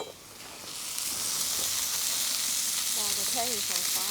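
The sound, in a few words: food sizzling in a hot pan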